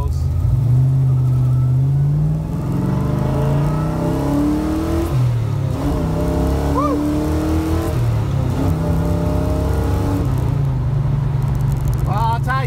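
An old car with four-wheel drum brakes accelerates hard through its gears, its engine note climbing steadily, dipping briefly at each shift and then rising again, loud and close throughout the run.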